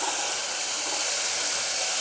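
Onion, green chili and tomato sautéing in a pan, a steady close sizzling hiss with no talk.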